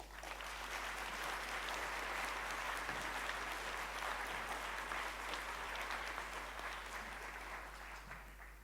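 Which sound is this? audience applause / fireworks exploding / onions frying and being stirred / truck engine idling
audience applause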